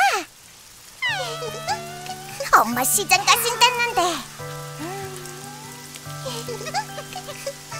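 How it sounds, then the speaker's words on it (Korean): Rain falling in an animated cartoon, a steady soft patter running underneath people talking and the background music. "비가 오잖아"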